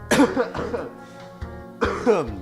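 A few rough coughs and throat-clearing bursts, close and fairly loud, with short pauses between them.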